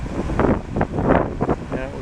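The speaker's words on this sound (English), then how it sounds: "A little bit windy." Wind gusts across a river on a canoe trip in Algonquin Park on the Petawawa River, buffeting the microphone in rough, uneven puffs, with a person's voice mixed in.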